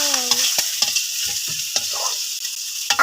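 Carrots, beans and corn sizzle in a hot pan as they are stirred, with a steady frying hiss broken by several scraping strokes of the spoon.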